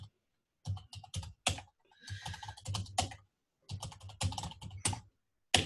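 Rapid bursts of keystrokes on a computer keyboard, clattering in quick clusters separated by short pauses, close and clear in a quiet room.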